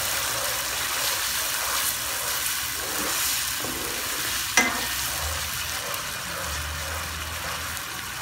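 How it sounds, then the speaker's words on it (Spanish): Chicken bouillon is stirred into a bubbling tomato sauce for smoked pork chops, a close, continuous sizzling hiss with faint scraping and one brief clink. "vamos a revolver perfectamente"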